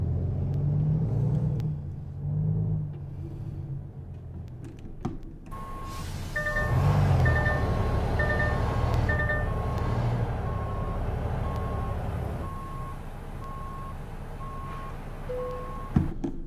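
Low truck engine rumble from a video game truck simulator, then a steady series of evenly spaced reversing beeps sounding for several seconds.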